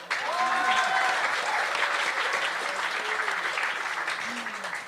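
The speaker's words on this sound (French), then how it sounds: "Vous pouvez les applaudir," A church congregation applauds two pastors with sustained, dense clapping that fills the room, loud and steady before tapering slightly, with a few voices calling out over it.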